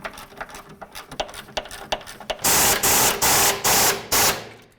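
Bolts holding the sway bar bushings on a 1988-2002 GMC Sierra 1500 are run in with a power tool: light clicking and ratcheting, then four loud, close bursts of rattling buzz in quick succession.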